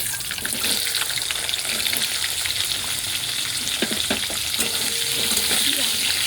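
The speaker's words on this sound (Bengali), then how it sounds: "শুকনো লঙ্কা আর জিরে, ভেজিটেবলগুলো ভাজবো" Mixed vegetables of carrot, beans and potato fry with dried chilli and cumin, a loud continuous sizzle layered with frequent spatula stirs and scraping, no talking.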